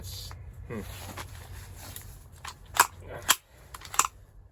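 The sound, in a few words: airsoft gun trigger pull clicking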